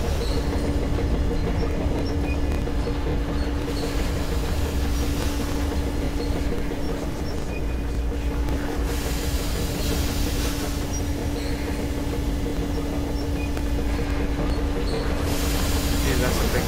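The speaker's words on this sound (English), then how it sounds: "Yeah, that's a big fucking train." A large train in the video game Metro Exodus rumbles past in a loud, steady roar with a sustained tonal hum and wheel clatter lasting throughout. A voice speaks over it.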